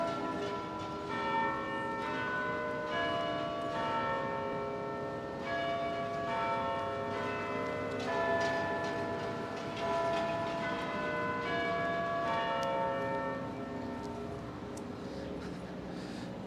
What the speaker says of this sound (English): there goes the bell and the GPO.